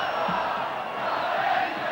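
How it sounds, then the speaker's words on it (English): Home crowd at a Piacenza football match against Juventus roars in a steady, dense wash of cheering and chanting for the whole stretch, with a brief shout near the start. "Vociferous support from the home crowd."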